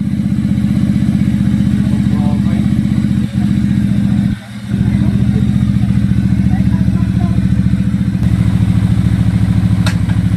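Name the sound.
Benda Chinchilla 500 motorcycle engine running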